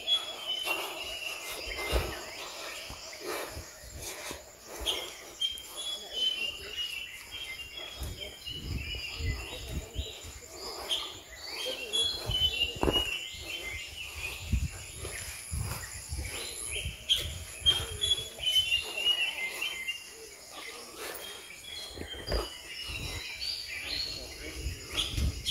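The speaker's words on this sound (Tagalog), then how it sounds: "Yung huni talaga ng ibon eh." Birds chirp and call across the countryside among lush greenery and large mango trees, with insects or crickets buzzing steadily beneath, a dense, continuous outdoor chorus at moderate distance with scattered footsteps and rustles while walking.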